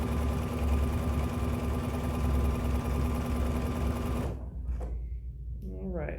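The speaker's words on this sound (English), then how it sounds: "You're just sewing your strips together." A sewing machine stitches fabric strips together for a spiderweb table topper, humming in a steady, loud, close whir that runs several seconds and then stops abruptly, followed by faint handling noises.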